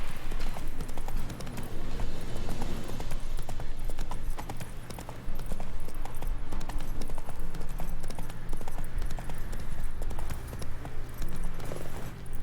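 Hooves of the horse Roach in The Witcher 3, a steady rapid clip-clop of galloping over ground that runs throughout with loud, even footfalls and a brief slowdown midway.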